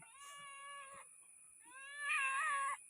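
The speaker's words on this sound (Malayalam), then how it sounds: "പൂച്ച ഇത് നമ്മളെ സ്വന്തം പൂച്ച." A cat gives two drawn-out meows, the second louder and more insistent, close up against a quiet background.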